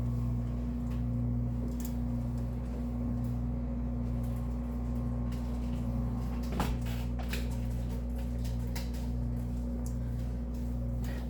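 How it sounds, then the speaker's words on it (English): A home heater running with a steady, loud low hum and drone throughout, broken by one brief click partway through as the heat kicks in, with no talk over it. "Oh, my heater just came on."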